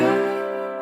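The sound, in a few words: bottleneck slide guitar played without damping strings behind slide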